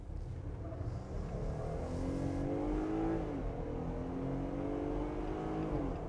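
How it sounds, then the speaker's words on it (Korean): Jeep Gladiator pickup driving at high speed on a tight road through a tunnel, with a steady loud engine drone and road roar, rising and falling in pitch as it accelerates, no voices. "지금 이렇게 타이트한 도로에서 고속으로 터널을 감아 나가고 나와서 다시 직선 구간을 만날 때도"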